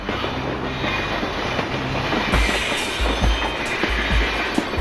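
A toy-style locomotive rolls steadily along rails into a work shed, with rhythmic clickety-clack wheel beats growing stronger in the second half, under background music and no talk.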